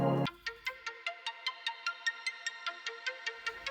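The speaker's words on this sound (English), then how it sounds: "And that is this little ARP, yet again from the same vocal wavetable, and alone it sounds like this." Bright synth arpeggio built from a vocal wavetable, a steady run of short plucked notes in a quick even rhythm after a brief opening hit, clean and fairly quiet, played alone without effects.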